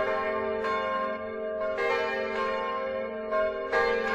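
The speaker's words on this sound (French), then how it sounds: "toutes les cloches sont en branle" Church bells ring on Christmas Day with steady, overlapping peals, rich and sustained, strikes recurring every second or so with no voices.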